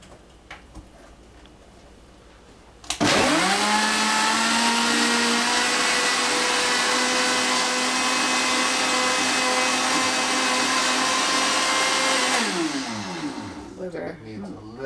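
A blender grinds a green smoothie with a little water added, roaring on loudly and abruptly after a quiet start, holding a steady high whir for about ten seconds, then winding down.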